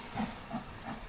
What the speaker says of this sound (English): that steam engine, that's lovely